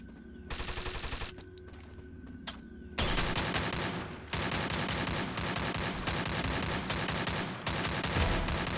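Dense bursts of gunfire from the Free Fire Max battle-royale game, a lighter clatter at first, then from about three seconds a loud, sustained barrage of overlapping automatic shots and rattling, continuous and close, with no talking.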